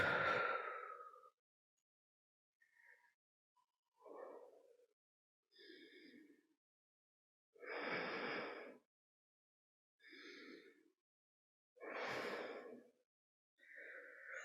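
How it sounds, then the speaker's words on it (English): Slow, deep breaths taken during a grounded hip-mobility stretch: several soft, close sighing inhales and exhales separated by pauses of near silence, with no talking. "We're going to hang out here for a couple nice deep breaths."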